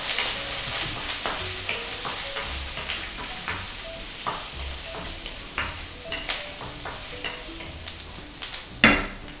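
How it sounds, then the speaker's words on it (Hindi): Pea peel fibres roasting and sizzling in a kadhai, a steady frying hiss broken by scraping stirs and occasional sharper clinks of the spatula against the pan, close and fairly loud, no voices. "ये लीजिए, ये थोड़ा सा भून लेते हैं"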